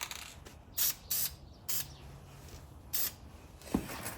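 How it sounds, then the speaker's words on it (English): Short bursts from a spray can of chassis paint, flame paint, hit a hole on a Jeep Gladiator truck, four or five quick hissing puffs with brief pauses between them, close and clear. "And then I'm going to use some chassis paint, flame paint. Just hit that hole up a bit."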